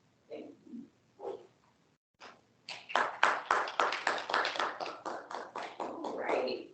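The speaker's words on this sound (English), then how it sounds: "I could have clapped louder than that for the rest of it" An audience at a Toastmasters meeting claps after a speech, starting with a few scattered claps, then building into several seconds of steady, fairly close applause from a small group.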